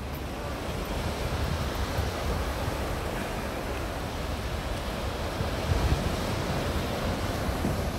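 Sea waves wash steadily onto a shore, a continuous broad roar of surf mixed with wind noise on the microphone, close and even throughout with no talking.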